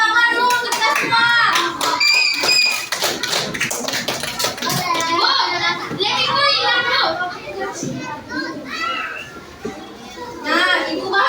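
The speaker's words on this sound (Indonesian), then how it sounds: "Tepuk tangan dulu untuk kita semua." Schoolchildren clapping hands in a classroom, a burst of quick uneven claps mixed with lively chatter and shouting from the kids, noisy and close throughout.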